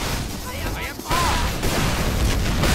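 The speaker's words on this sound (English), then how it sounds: "There's a big old explosion in my face." Team Fortress 2 gameplay fills with dense, roaring explosions and crackling blasts, loud and continuous, with a player's voice talking over the chaos.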